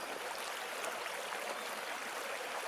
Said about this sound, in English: There's this little stream.